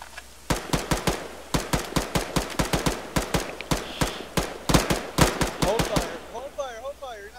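Rifle fire in the military video game ArmA 3, a long run of loud, evenly spaced single shots, close and sharp, with a quieter stretch and a voice at the end.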